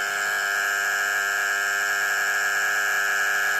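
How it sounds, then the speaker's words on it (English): A 1970s Sankyo Model 401 flip clock sounds its alarm, a loud, harsh, continuous electronic buzz that holds at one steady pitch without a break. "That's a horrible sound, and the alarm does not shut off automatically."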